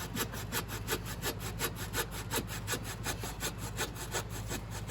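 Coping saw cutting through an MDF baseboard, a steady run of quick, regular rasping strokes, close and fairly loud, with no talking.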